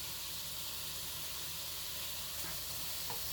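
Garlic and tuna pieces sizzle and brown in a hot pan, giving a steady, close frying hiss that holds evenly throughout with no talking.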